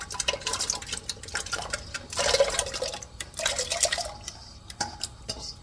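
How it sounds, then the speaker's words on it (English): Potatoes go into a pot of water in a home kitchen, making soft splashes, plops and drips that come in uneven bursts, close and moderately loud, with no talking. "I'm going to put my potatoes in."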